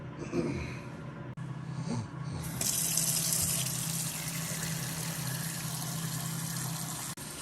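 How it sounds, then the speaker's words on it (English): Tap water runs steadily over potatoes being rinsed to remove starch, a constant close rush that starts after a few seconds of lighter splashing, with no talk. "rinse them 3 times to get all the starch off of them"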